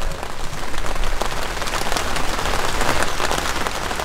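Steady rain falling outdoors at a carp-fishing spot in Zeeland, a dense broadband patter with scattered sharper drop hits, fairly loud and continuous throughout with no talking.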